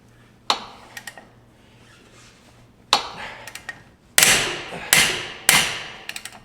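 Ratchet working a tight, Loctite-coated brake caliper bolt loose on a 2017 Camaro 1LE, heard as a few sharp clicks and knocks early, then loud, close cracking snaps in a short series, with no talk.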